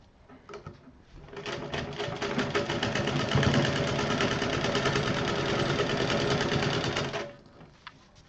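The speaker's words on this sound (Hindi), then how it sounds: "अब इसको फिर उसी तरह मोड़ते हुए पूरा सीधा सिल देंगे।" A sewing machine runs a long straight seam on a pillow cover, its fast even needle chatter starting after a second, holding steady and loud for about six seconds, then stopping, with faint handling sounds around it.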